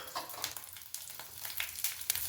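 Garlic dropped into hot oil in a pan, frying with a steady close sizzle and crackle, bursts of sharper spitting spread through the short stretch, no voices.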